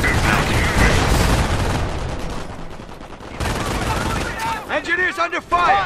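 German gunfire and shelling in the strategy game Company of Heroes: dense, continuous volleys of rifle and machine-gun fire with booming impacts, briefly easing before resuming, then whistling shells near the end, with voices over the battle.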